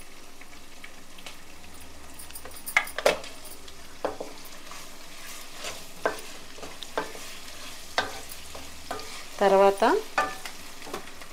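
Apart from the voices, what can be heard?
turmeric and rock salt frying in a pan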